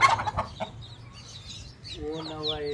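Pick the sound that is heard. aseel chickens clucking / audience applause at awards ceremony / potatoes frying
aseel chickens clucking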